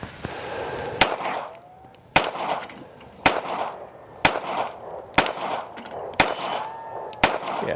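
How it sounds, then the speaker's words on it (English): Seven sharp pistol shots from a Springfield Armory Hellcat Pro Comp OSP ring out outdoors at a tree, spaced about a second apart, each a loud crack with a short echoing tail. "So let me shoot at the humble tree a little bit."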